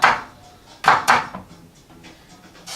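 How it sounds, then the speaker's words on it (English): A knife chops an onion on a board, with three sharp close knocks in quick succession followed by fainter, lighter cuts. "Really easy to chop an onion up quick"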